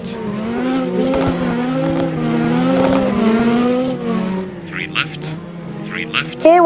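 A rally car engine in a Roblox WRC racing game revs and drones through gear changes, with some tire noise, while a voice talks steadily over it throughout.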